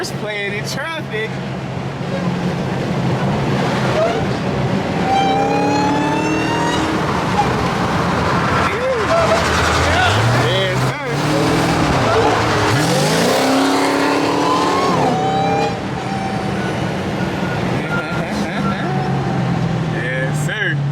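A 1987 Monte Carlo SS does a loud burnout, its engine revving hard while the tires squeal and howl continuously, with people's voices mixed in under the noise.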